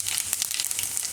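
Cumin seeds sizzling in hot oil in a pan, a bright continuous crackling fry, close and steady throughout the short moment.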